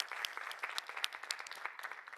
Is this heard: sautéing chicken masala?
no